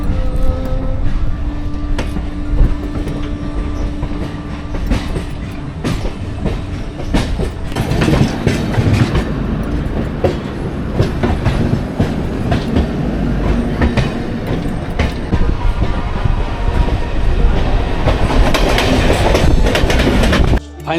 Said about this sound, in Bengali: থেকে বারাসাত লোকালটা ছেড়ে দিল।